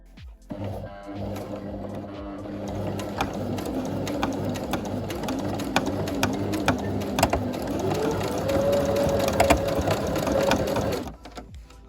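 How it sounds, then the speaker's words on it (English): A sewing machine runs steadily for about ten seconds, stitching back and forth over a pinned belt loop on pink corduroy trousers, with a constant mechanical whir and a faint rising tone near the end, close and alone. "I've pinned this and we're just going to stitch it with the machine."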